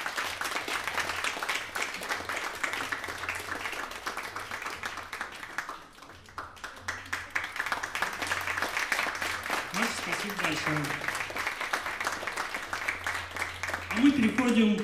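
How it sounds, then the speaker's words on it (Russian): A concert audience applauds steadily, a dense patter of clapping that runs throughout with a brief dip midway, while a voice speaks over it and the clapping swells again near the end. "Под ваши аплодисменты."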